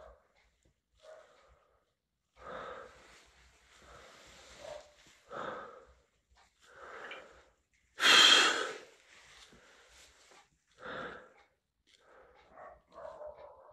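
A dog barks and huffs outdoors in a series of separate short barks, with one loud close bark in the middle and fainter ones around it, no talk.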